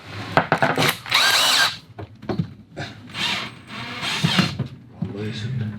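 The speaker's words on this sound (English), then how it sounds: "we'll be actually screwing this back into the bottom of the hull" A power drill screws a bilge pump into a boat hull in short, whining bursts, close and fairly loud, with people talking between and over the runs.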